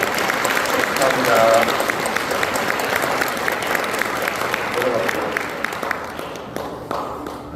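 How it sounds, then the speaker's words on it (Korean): A church congregation claps warmly for newly installed officers at an ordination thanksgiving service, with dense, steady applause filling the room and a brief spoken line heard over it before the clapping slowly thins. "회중을 향해서 인사하기로 큰 박수로 격려 부탁드리겠습니다"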